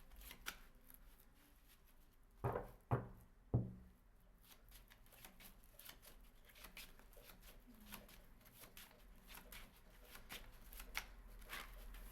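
A tarot deck is shuffled during a deck change: three short, quiet riffling bursts close together in a hushed room, with soft handling noises around them.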